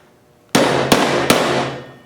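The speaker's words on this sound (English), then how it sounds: "so you might need to just take a hammer and just whack it a couple times to get it down" Three sharp, loud metallic whacks from a hammer striking metal banding to knock it flush over a weld, evenly spaced about a third of a second apart, each ringing briefly before the next.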